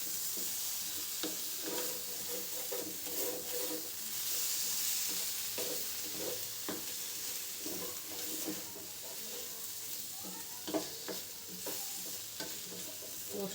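Raw banana curry sizzles and fries in a pan while a spoon stirs it, a constant hissing crackle with soft scraping knocks scattered through, fairly close and without voices.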